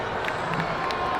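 A football crowd at BBVA Field, Birmingham Legion versus Atlanta United, gives off a dense, steady roar of many distant voices with scattered louder shouts, a continuous unhappy murmur.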